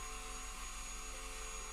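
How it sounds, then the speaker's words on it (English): A homemade vacuum cleaner built from a straw runs while cleaning the fan of a disassembled Samsung laptop, giving a steady, close whirring drone with a constant tonal hum and no pauses. "now I'm using my DIY vacuum cleaner"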